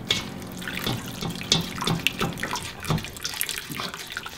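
Liquid is poured into crab bisque while it is whisked, giving a continuous trickling, splashing flow with scattered light taps and clinks from the whisk nearby.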